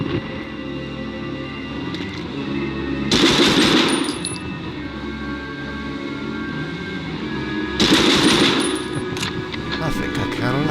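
Bursts of automatic gunfire in Medal of Honor, two loud, dense volleys over a steady backdrop of game music and ambience, with rapid repeating shots.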